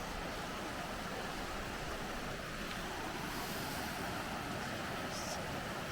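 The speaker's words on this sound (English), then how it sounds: "So that's the top of the waterfall." Steady broadband rush of a waterfall at Teresa Creek in Queensland, viewed from a bridge near the top of the falls, a constant dense roar filling the whole stretch with no breaks.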